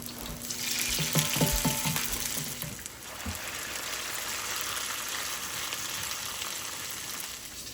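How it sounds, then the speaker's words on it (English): Hot water cornbread frying in a skillet on the stove, a steady close hiss and crackle of oil throughout, with a few brief clinks of a utensil near the start. "And now they're cooking on about 6."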